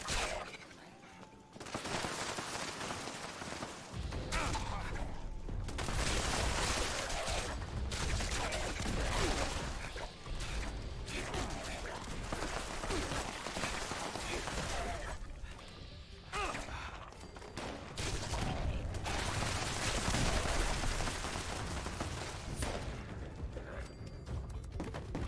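Automated turrets in Fallout 76 fire in sustained bursts with booms and crashes, loud and dense through most of the stretch, broken by brief lulls.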